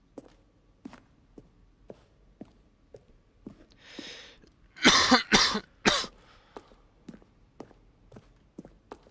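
Three sharp coughs burst out close to the microphone, preceded by a throat-clearing rasp, over a steady series of soft footstep-like taps.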